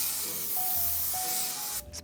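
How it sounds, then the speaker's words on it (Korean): Aerosol hair spray hissing in one long continuous burst onto the middle and roots of styled bangs, close and steady, cutting off near the end. "이제 뿌리 밑에 중간 부분 스프레이 갑니다리."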